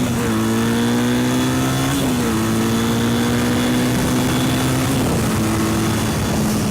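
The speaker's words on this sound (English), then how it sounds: "Oh, I guess a bus is coming." A bus drives up nearby, its engine droning steadily with a few shifts in pitch as it nears, the sound loud and continuous with no one speaking.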